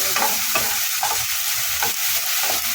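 Potatoes and drumstick flowers sizzle in oil in a wok while a spatula scrapes and stirs them in repeated strokes, loud and close over a constant frying hiss.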